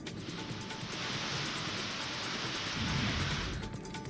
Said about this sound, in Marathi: धाराशिवमध्ये वादळी वारा आणि विजांच्या कडकडाटासह मुसळधार पाऊस सुरू आहे